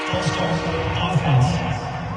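Broad stadium crowd roar in the Madden NFL 22 video game fills the background, steady and loud with a swell of cheering, while a commentator speaks over it.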